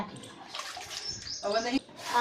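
Hot water being poured into a large pot during potato chips preparation, a close, splashy gush running under voices talking throughout.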